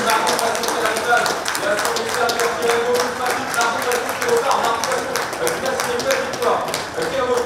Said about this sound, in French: N'hésitez pas à les applaudir pour cette lutte terrible entre ces jeunes cavaliers.